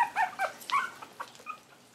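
Chihuahua puppies about three to four weeks old let out a few faint, close, high whimpers and yips in short bursts, trailing off into quiet.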